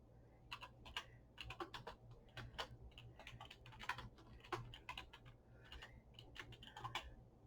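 Computer keyboard typing as an email subject line is entered: rapid, irregular clusters of light key clicks, close and quiet, with brief pauses between bursts and no talk.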